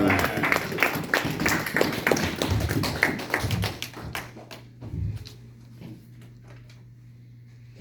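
A church congregation applauds in praise during a Sunday sermon, with dense, loud clapping for about four seconds before it thins to a few scattered claps over a low hum.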